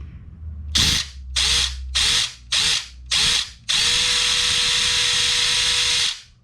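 An unlubricated gearbox whirs in five short bursts, then runs in one long continuous spin, a loud high mechanical whine heard up close.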